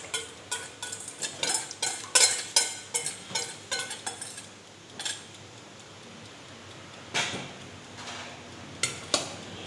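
Stirring cream puff dough in a pot, a spoon scraping and knocking against the pot in a steady series of close strokes, then slower, quieter scrapes, with no talking.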